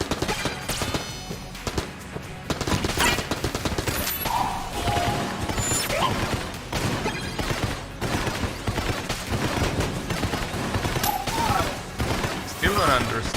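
Good old AK-47 automatic fire in the top-down shooter Exit the Gungeon, dense rapid bursts throughout, mixed with crashes, impacts and game music, with a player talking over it.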